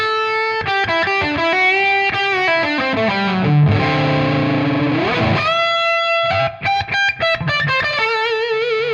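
Electric guitar played through a Tonex OD3 high-gain amp model, thick distorted notes and smooth sustained bends, loud and up front with no talking.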